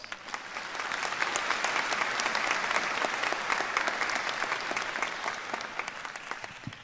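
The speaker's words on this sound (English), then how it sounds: "Let's give her a round of applause." Steady applause from an audience at a university honorary degree ceremony, swelling after the first second and holding evenly for several seconds at moderate distance.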